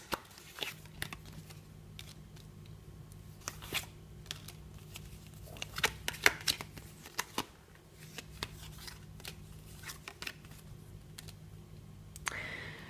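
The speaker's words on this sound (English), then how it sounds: "I will lay out 5 more cards and we'll see what comes up" Tarot cards being shuffled and laid out on a table, with a run of close, crisp riffles, slaps and taps that come in uneven bursts over a quiet background.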